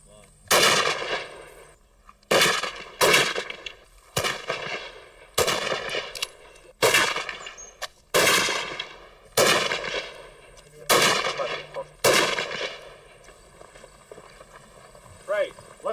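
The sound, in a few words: Lee Enfield rifle gunfire at shooting range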